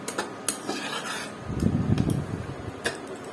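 Spiced paneer cutlet mixture being stirred in a pan, heard as close scraping and metal clinks with a few sharp ticks and a denser rumbling stretch in the middle, no voices.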